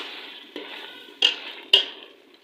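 Spoon scraping and knocking against a handi while yogurt is mixed into browning beef keema, a few distinct metallic clinks over a soft sizzle, close and clear.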